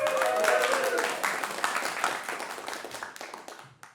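A conference audience at a game developers' event claps enthusiastically, a dense wash of applause that gradually thins and dies away, with a faint tonal sound early on.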